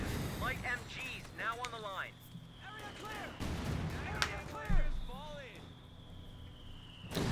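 Mortar shells land in a Company of Heroes 2 battle, with a few dull thumps and bursts rising out of steady battlefield noise while someone talks over most of it.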